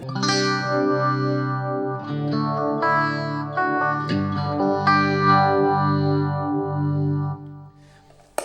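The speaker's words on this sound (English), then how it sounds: "using the clean channel, using the yellow comp compressor, the small stone phaser, and the Wampler plexi drive" Electric guitar played on a clean amp channel through a yellow compressor pedal, Small Stone phaser and Wampler Plexi drive: sustained, compressed notes and chords with a slow swirling phase sweep and mild overdrive, loud and continuous, fading at the end.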